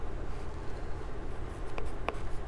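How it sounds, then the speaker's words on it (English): An orange crayon writing a word on paper, a soft continuous scratchy rubbing with a couple of brief sharper strokes near the end, close and fairly quiet against a steady background hum. "I'm going to use this orange crayon to write the word orange."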